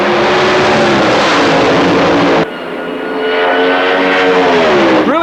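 Drag racing car launching on a qualifying run: a loud, harsh roar, then a brief dip before the engine note climbs steadily as the car accelerates away, with a final sharp rise at the end.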